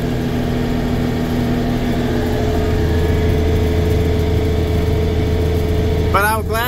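A tractor engine works hard under load on a cold day, a steady, loud mechanical drone with a low hum that runs without a break throughout.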